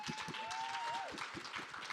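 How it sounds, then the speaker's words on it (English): A conference panel audience gives a steady round of applause, a dense patter of many hands clapping at moderate distance, with a faint tonal whine running through it. "may I please have a round of applause for our San Diego president of our ADC chapter"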